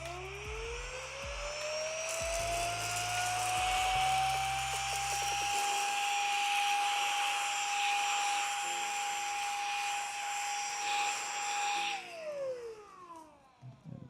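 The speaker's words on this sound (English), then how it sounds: "Excuse the noise, need to vacuum this up." A vacuum cleaner running close by while a model kit is being built, its loud steady whine rising in pitch as the motor spins up, holding for several seconds, then winding down near the end.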